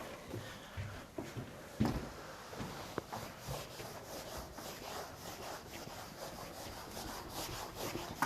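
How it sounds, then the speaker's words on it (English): Eraser being rubbed across a classroom board to wipe off written formulas, a close, continuous scratchy swishing in short irregular strokes with occasional knocks, and no talking over it. "Can I just rub this side of the board then?"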